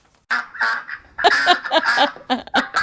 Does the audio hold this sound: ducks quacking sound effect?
yes